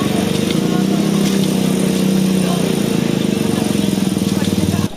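Stalled motorcycles being restarted by helpers after crossing floodwater in Makassar, a steady, loud engine drone with a rapid putter running throughout, speech mixed in, cutting off at the very end.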